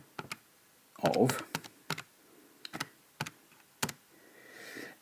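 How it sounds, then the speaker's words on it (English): Keys tapped on a calculator while a voice talks, a series of sharp, close clicks spaced irregularly with a short burst of speech in the middle. "I can type that in on my calculator"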